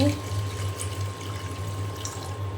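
Water is poured into a cooking pot while a spicy fish curry with green chili powder cooks, a faint steady splashing and gush under a constant low kitchen hum.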